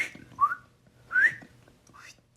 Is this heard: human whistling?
yes